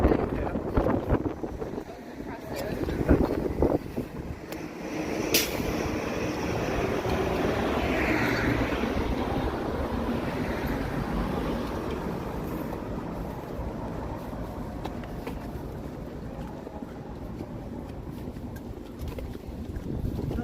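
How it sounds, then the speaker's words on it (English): Cold wind blowing through downtown Toronto on a Sunday afternoon makes a steady, broadband roar that buffets the microphone continuously throughout, with occasional rumbling gusts. "And then the wind comes and it's brutal"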